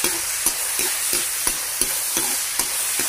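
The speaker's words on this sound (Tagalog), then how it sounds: "Ngayon haluin natin yan guys." Garlic and onion are stirred in a frying pan, with loud, evenly spaced spatula scrapes about three per second over a steady hiss of frying.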